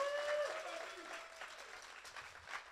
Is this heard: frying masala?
no